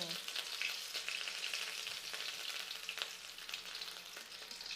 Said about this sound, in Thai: คราวนี้เราก็ จะทำการนะผัดพริกเนาะ